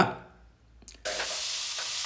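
A brief scrape, then a sudden loud, steady sizzle of hot coconut oil in a pan that continues to the end.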